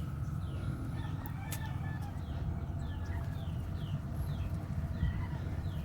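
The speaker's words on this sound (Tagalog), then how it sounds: "Maraming manok nakasunod dyan sa aking likod" Chickens clucking and crowing in the background outdoors in a garden, with repeated bird calls over a steady low rumble of ambient noise.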